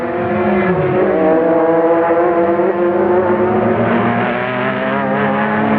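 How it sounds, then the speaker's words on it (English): Brumos Porsche race cars at the 2003 Rolex 24 at Daytona, a steady loud engine roar with layered harmonic whine that shifts slightly in pitch as the cars run, with no talking. "it is the 2 Brumos Porsches dominating the Rolex 24 here at Daytona"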